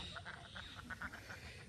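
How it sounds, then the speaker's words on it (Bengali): Ducks at play quack faintly in a quick series of about a dozen short nasal calls, somewhat distant and low in level. "এদিকে হাঁসেরা খেলতেছে।"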